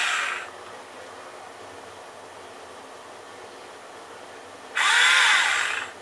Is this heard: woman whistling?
no